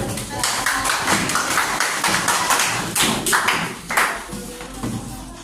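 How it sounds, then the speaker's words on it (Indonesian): Audience in a classroom teaching-practice session breaks into dense, steady clapping that fills the whole stretch at close range, with a few louder claps standing out near the end. "Kasih tepuk tangan."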